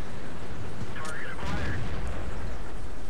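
Tank cannon fire in a tank video game on the Prokhorovka map: a couple of heavy booming shots burst out over a constant loud rumble, with a voice talking through the battle.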